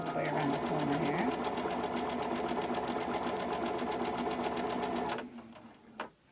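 A sewing machine runs in one fast, steady buzzing burst as it stitches fabric around a corner while piecing half square triangles, then stops abruptly, leaving a few soft clicks.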